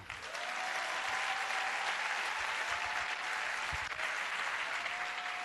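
A church congregation breaks into sustained applause, a dense steady wash of clapping from many hands that holds at even loudness throughout, with a faint tonal hum running beneath it.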